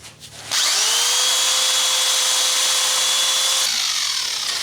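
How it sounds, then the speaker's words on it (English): A small wire wheel spun by a drill scours e-coating and seam sealer off car body metal in an engine bay. It gives a loud, steady high-pitched whine that runs unbroken for about three seconds after a brief start and then spins down. "Now we clean all of the E-coating and the rest of the seam sealer off with this little wire wheel and a drill."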